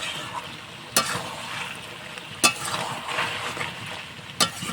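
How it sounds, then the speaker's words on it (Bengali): Chicken pieces cooking in their own rendered fat for a curry with no added oil sizzle and crackle steadily, while a spoon or spatula scrapes and knocks against the pan at three distinct moments. "চিকেনে যা তেল ছিল সেই তেলেই রান্না হয়ে যাচ্ছে।"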